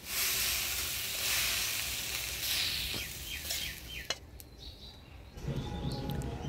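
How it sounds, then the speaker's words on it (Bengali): A mix of five kinds of leafy greens frying in a pan gives a soft, steady sizzle that fades partway, broken by a few sharp spatula clicks before the frying noise swells again. "5 শাকটা ভাজি নিলাম, এবার নামাই নিব।"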